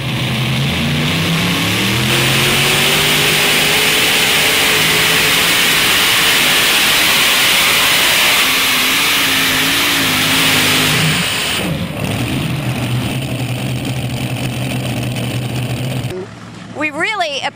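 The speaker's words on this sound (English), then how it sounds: "He's running 4 big block Chevys, putting out right around" A pulling tractor powered by four big block Chevy engines, about 7,000 horsepower, roars loudly at a tractor pull event, its pitch rising and falling over a sustained blare, with a voice talking over it and a brief crackle near the end.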